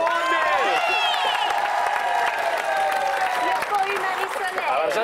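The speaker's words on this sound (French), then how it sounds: "Quand tu entends un applaudissement suffisant pour toi sur le panel" A game show panel and studio audience applaud and cheer in a steady, loud roar that carries on without a break, with voices mixed into the crowd noise.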